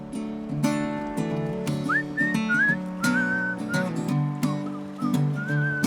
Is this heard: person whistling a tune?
yes